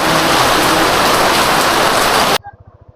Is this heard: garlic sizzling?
no